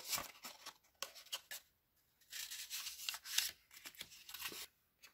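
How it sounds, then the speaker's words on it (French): Folds in a paper pop-up card are creased by hand, producing quiet, close, scratchy rubbing and crinkling strokes in short bursts separated by brief silences. "Je marque mes plis."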